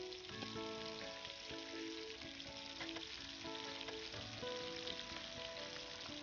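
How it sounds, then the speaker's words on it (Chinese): Beef steak frying in a hot pan gives a steady, close sizzle that holds at a constant level, with faint scattered crackles and no talking over it. "先给哥几个煎个牛排吧。"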